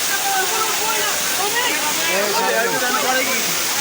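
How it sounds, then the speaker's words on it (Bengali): Rushing water pours steadily at the Jaflong waterfall, a loud, close, continuous roar and splash heard beneath people talking. "আমরা আছি জাফলংয়ের ঝর্ণায়।"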